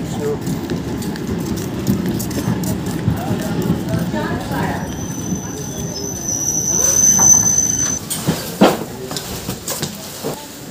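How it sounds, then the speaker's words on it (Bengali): A local train pulls into a station in West Bengal, wheels screeching in a sustained high squeal midway through over a low rumble and clatter, with people talking nearby. "কিন্তু আমাদের ট্রেন দেখতে পাচ্ছ চলে এসছে।"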